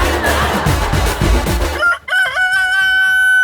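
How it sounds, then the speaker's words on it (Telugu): A rooster crows loudly and close, a long drawn-out call in the second half following a noisy, busy stretch of clucking and background sound at the start of a TV entertainment show. "కోడి వచ్చింది"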